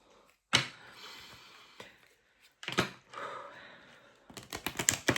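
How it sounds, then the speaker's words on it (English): Tarot cards are shuffled up close in three quiet bursts of crisp riffling and rustling, with short pauses between them. "Give me another couple of shuffles."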